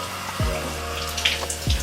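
A toilet being flushed with water running, a steady close rush of flowing water with a couple of brief gurgling surges, and no voices.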